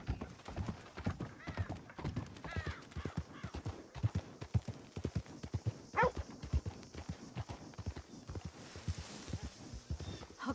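Horse hooves from Red Dead Redemption 2 Online on the Great Plains, a steady run of close clip-clop footfalls with a brief neigh midway, continuing rhythmically to the end.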